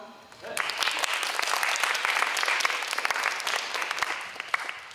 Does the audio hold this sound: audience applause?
yes